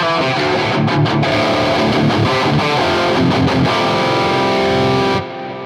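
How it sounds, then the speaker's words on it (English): A high-gain electric guitar lead tone through a 5150 amp model on a Helix Stadium, playing a sustained distorted melodic line with bends that rings loudly, then cuts off abruptly near the end. "So again, more modern sounding gain and lead tones."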